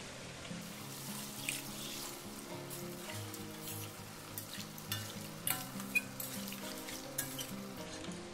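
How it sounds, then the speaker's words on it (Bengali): Water is poured into a pan of frying cauliflower and potato, a rushing pour with hissing sizzle and some stirring, steady and moderately close with no one talking. "এবারে আমি জল দিয়ে দেবো"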